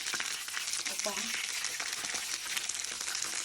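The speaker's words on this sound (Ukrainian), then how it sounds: "Дуже гарно засмажуються котлетки." Loud, steady sizzling of turkey cutlets frying in a pan fills the clip, with a brief spoken exclamation partway through.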